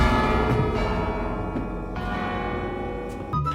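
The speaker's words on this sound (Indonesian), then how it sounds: "Bel berbunyi." A church bell peals steadily in a One Piece anime episode, its rich, resonant tones layered and sustained throughout, with a brief louder strike near the end and no talking.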